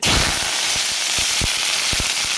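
Cumin, curry leaves and onion temper in hot oil that was just used to fry chilli balls. A loud, continuous close sizzle is broken by scattered sharp pops and crackles.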